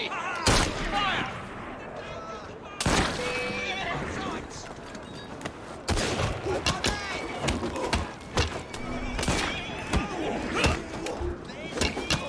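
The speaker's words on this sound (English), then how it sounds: "Pistols at the ready! Fire!" Volley of pistol shots fired on command in Assassin's Creed Syndicate, sharp cracks scattered among neighing horses, clip-clopping hooves and shouted voices in a noisy street scene.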